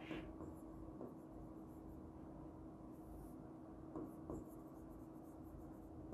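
Chalk or marker scratching across a board as a rule is written during a maths lesson on congruent triangles, faint intermittent strokes with soft taps in a quiet room.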